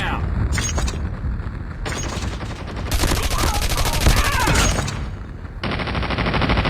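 Gunfire bursts in the video game Call of Duty, with rapid automatic fire and heavy blasts in loud, dense stretches broken by brief lulls, while a voice talks over the action.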